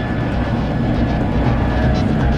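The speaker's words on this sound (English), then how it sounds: "Stock engines here, 2x280 Mercury outboards, 600 horsepower at the propellers, top speed 200 kilometres an hour." Racing powerboat powered by twin stock Mercury 280 outboard engines, about 600 horsepower, competing in a Qatar Cup race off Doha, gives a loud, steady, continuous engine roar throughout, close and unbroken, with no speech.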